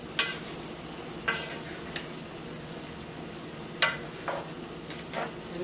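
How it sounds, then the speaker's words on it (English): One-pan chicken sizzles quietly in a little oil while a utensil stirs it, giving a steady low frying hiss broken by several sharp scrapes and clinks against the pan, with no talking. "A little oil, just a little. Give this a stir."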